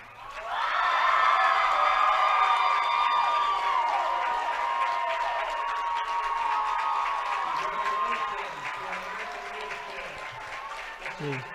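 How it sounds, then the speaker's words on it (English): Baseball fans at a 3A high school championship game cheer and applaud, a sustained wash of clapping and whoops from a crowd, loud at first and fading slowly, with a commentator talking faintly toward the end. "The ALA fans giving their team a enthusiastic applause there."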